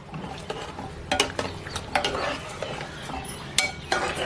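A spoon stirs gulab jamun mixture in a bowl, giving repeated close scraping and clinking strokes against the sides in an uneven rhythm, with no talk.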